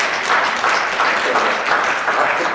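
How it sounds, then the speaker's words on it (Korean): A church congregation claps together in a dense, sustained wash of applause that fills the room evenly from start to finish. "박수는 또 하나님께 영광 돌리는 박수 감사드리고요"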